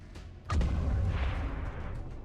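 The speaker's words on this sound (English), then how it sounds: "Blaster bomb." Blaster bomb in the video game XCOM 2 detonates with a sharp blast, then a heavy rumbling boom that lingers and fades over a couple of seconds, with no talk.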